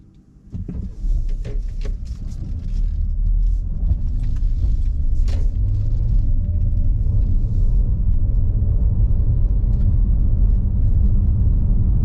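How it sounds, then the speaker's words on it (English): A 2019 Mercedes-Benz GLC 43 AMG pulls away and drives on, its engine and road rumble steady and loud from inside the cabin, after a few brief clicks and knocks at the start. "just going for a drive in the GLC43, so let's go."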